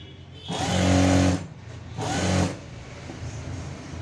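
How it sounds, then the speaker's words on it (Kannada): An electric sewing machine stitches a semi patiala pant in two short bursts, a close whirring hum with rapid needle chatter, separated by a brief pause and followed by quiet room noise. "ಸೊ ಇಲ್ಲಿಂದ ಮತ್ತೆ ಸ್ಟಿಚ್ ಕಂಟಿನ್ಯೂ ಮಾಡಿ"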